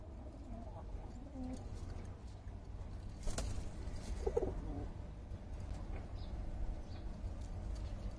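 Racing pigeons return home to their loft, with soft cooing and fluttering sounds over a steady low background rumble and faint distant voices.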